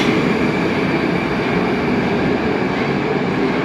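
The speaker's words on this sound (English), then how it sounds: "Let's just check this train leaving the station." A Moscow Metro train pulls out of a newly built station, giving a loud, steady rumble and roar of wheels on rail that fills the platform with no voices.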